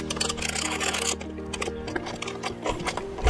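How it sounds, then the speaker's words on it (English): A ratchet strap on a van ladder rack is wound back in, giving a steady close mechanical whirring and clicking with a low hum and a few louder knocks near the end. "Now we're going to wind the strap back in here."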